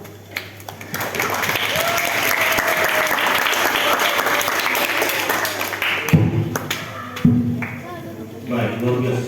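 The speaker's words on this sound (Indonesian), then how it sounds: "Kita tepuk tangan." An audience of students from the school OSIS and DPS councils applauds at the close of a meeting: dense, sustained clapping for about six seconds, then tapering into scattered claps, clatter and voices.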